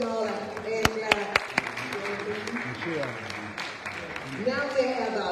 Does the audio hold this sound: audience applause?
yes